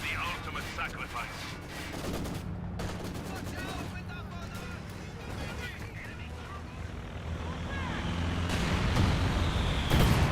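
Infantry rifle volleys crackle across a Company of Heroes 2 battlefield, with scattered shots and rumbling explosions under steady game noise while a commentator talks throughout.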